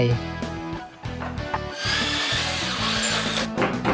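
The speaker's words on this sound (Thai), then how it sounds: "เจาะกระเบื้องถ้าให้ง่ายใช้ดอกธนูเจาะจะไม่ลื่น" A power drill with an arrow-head bit bores through wall tile while a Philips water heater is being installed, running in short bursts that rise to a continuous high-pitched whine, close and loud.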